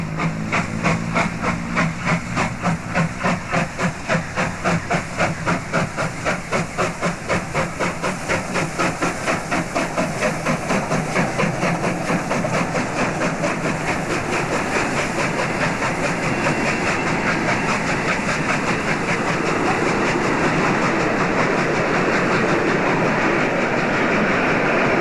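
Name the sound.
SAR 621 steam train leaving Horsham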